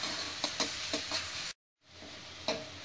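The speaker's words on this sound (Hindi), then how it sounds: "इसमें हम पहले प्याज डाल देंगे और प्याज को थोड़ा फ्राई होने देंगे।" Onions frying in oil in a pan for chole masala, a steady close sizzle with soft spoon-stirring scrapes, cut by a brief silence midway.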